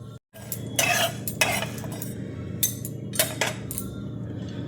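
Whole spices such as coriander, cardamom, cinnamon, cloves and fennel are dry roasted in a frying pan, with loud close scraping and stirring strokes in bursts over a low hum.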